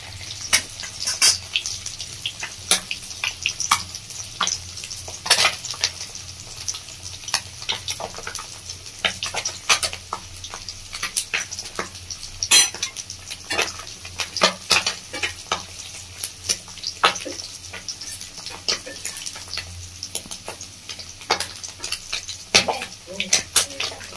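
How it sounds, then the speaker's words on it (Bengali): Chela fish frying in oil in a Bengali village-style kitchen, a steady close sizzle with scattered sharp crackles and spatter pops running throughout, with no voices. "উল্টে দিয়েছি, ভালো করে আর এক পিস ভেজে নেব।"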